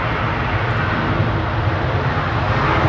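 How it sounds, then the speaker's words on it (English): A Finnair jet arriving from Helsinki touches down at Manchester Airport, giving off a continuous, fairly loud wash of engine and roll-out roar with a heavy low rumble, steady throughout and without any voices. "Finnair touching down from Helsinki"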